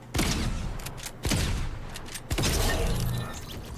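Three loud, sharp gunshots from a rifle fitted with a muzzle brake in Fortnite at a firing range, each a distinct crack followed by a ringing decay, spaced about a second apart.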